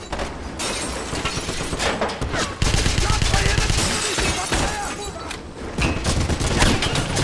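Dense gunfire bursts and heavy weapon fire in the World War II shooter Wolfenstein (2009), set in the town of Isenstadt, loud and continuous with booms and clatter throughout, and faint voices partly buried beneath.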